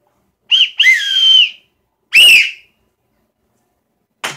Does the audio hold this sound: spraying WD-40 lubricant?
no